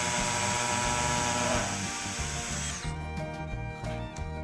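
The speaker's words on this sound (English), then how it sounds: "I'll drill all of those, and then we'll come back and put the screws in it" A power drill with dull bits bores holes in wood for a greenhouse seedling shelf, whining loudly and continuously at close range before the motor winds down near the end.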